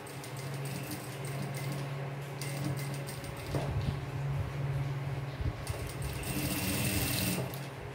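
A sewing machine runs steadily while stitching a narrow rolled handkerchief hem along a fabric edge, with a continuous close motor hum and rapid needle chatter.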